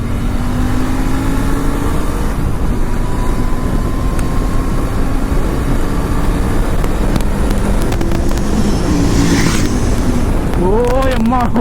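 Motorcycle ridden on a road with a GoPro Hero 10 and Sony ECM-LV1 mic, a loud steady engine drone with heavy wind rush throughout and brief rising revs toward the end.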